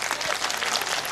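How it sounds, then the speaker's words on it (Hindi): An audience at a Hindu religious discourse bursts into brief, dense clapping, a crowded patter of many hands that fills the short moment. "ताली बजाओ।"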